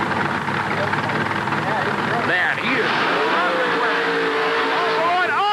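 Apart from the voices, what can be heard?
monster truck engine on a racing run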